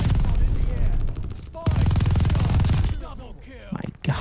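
MG42 machine gun fire in Call of Duty: Vanguard multiplayer, long loud sustained bursts of rapid automatic shots broken by a short pause, then quieter scattered gunfire and game effects near the end.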